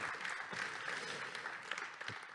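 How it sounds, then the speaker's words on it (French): Applause for the contestants and winners at a data visualization hackathon event, steady clapping from a modest crowd filling the room at moderate volume without a break. "encore un torrent d'applaudissements pour tous ces valeureux candidats et vainqueurs"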